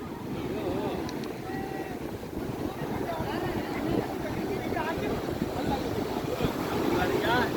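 Ocean surf washes ashore at Chandrabhaga beach in Puri, a continuous broad rush of waves mixed with wind noise against the microphone, with people talking faintly in the background.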